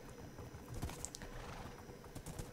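Horses walk along in the Minecraft video game, their hooves making soft, faint clip-clop steps in a loose rhythm over a low background hum.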